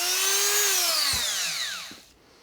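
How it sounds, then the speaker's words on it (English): A Dremel rotary tool whines at high speed while cleaning up cut strong plastic on an RC truck box, pitch sliding down as it bites, then cutting off and fading near the end; loud and close, no talk. "Now we'll clean it up with the Dremel."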